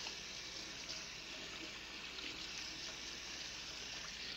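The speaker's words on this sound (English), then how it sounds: "I'm now going to wash the sugar off my hand" Water runs steadily from a tap as sugar is rinsed off a hand in a kitchen, a constant faint broadband trickle with no pauses and no talking.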